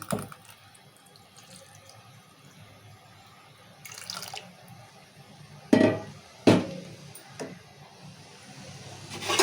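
Tap water runs steadily while tamarind is rinsed clean of dust in a kitchen sink, with a few louder splashes and clatters as the fruit is handled.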